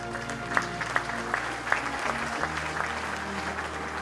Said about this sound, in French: On applaudit euh, Alain Nicolas.